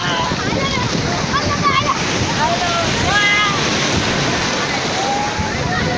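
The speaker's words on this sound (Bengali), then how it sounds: "দেখা যাচ্ছে কি উঁচু উঁচু ঢেউ।" High sea waves surging continuously, a loud dense roar of surf with heavy wind buffeting the microphone and a voice talking over it.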